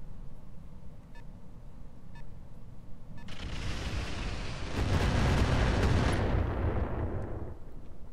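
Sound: mechs firing weapons at an AMS turret in Roguetech video game

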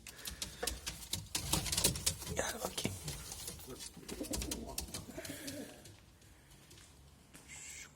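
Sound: pigeon cooing

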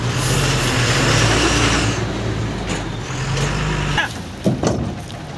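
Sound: tipper truck unloading bituminous road material

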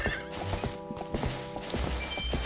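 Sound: horse hooves and neigh in video game (Zelda Twilight Princess randomizer)

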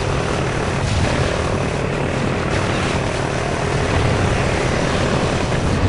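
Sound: helicopter coming down in video game Call of Duty: Ghosts

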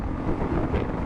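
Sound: strong wind on microphone

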